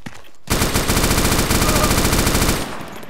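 Sustained machine-gun fire in a military video game, a loud, close, steady stream of rapid shots lasting about two seconds before cutting off.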